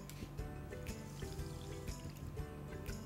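Water pouring into a pot to match a cup of sugar for syrup for Sitabhog, a Bengali sweet. It makes a soft, continuous trickling splash, faint and close.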